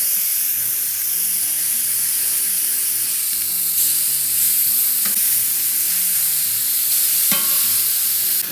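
Smashburger patties searing on a hot cooking surface for cheeseburger tacos, a loud continuous close sizzle with scraping and spatula clicks as they are flipped, no speech.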